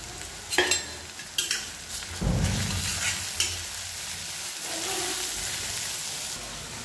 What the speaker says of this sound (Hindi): उधर हमारा मसाला भुन रहा है